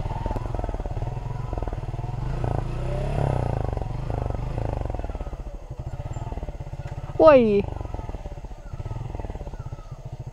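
A motorcycle descending a rough, slippery downhill road on a hillside route, a low engine rumble held steady throughout, with someone talking and a brief loud exclamation near the end.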